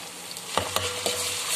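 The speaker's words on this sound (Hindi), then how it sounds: "अब इसमें अदरक लहसुन का मसाला डालें," Ginger-garlic paste hits hot oil with cumin in a pan, giving a steady close sizzle with a few scraping stirs and soft clicks, no voices present.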